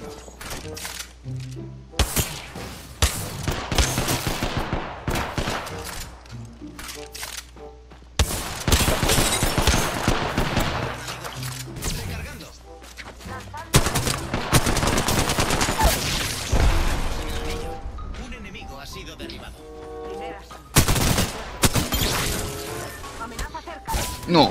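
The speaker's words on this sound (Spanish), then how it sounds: "Abriendo fuego contra el enemigo" Dense gunfire in Apex Legends: rapid automatic bursts and sharp single shots crack in clustered volleys, loud and close, with brief pauses between exchanges and occasional impact crashes, and a voice speaking over parts of the fighting.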